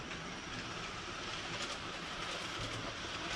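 An N scale model commuter train runs through a shared switch on a layout, giving a faint, steady whirring rumble with light rhythmic clicking of tiny wheels, distant and continuous.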